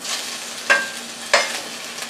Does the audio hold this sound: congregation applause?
no